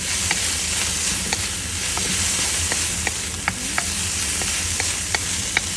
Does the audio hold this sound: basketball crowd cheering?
no